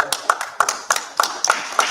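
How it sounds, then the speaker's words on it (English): Scattered hand clapping from an audience at a Men of Honor awards event, sharp uneven claps ringing out over a few seconds rather than full applause, with some voices mixed in. "Clap that up."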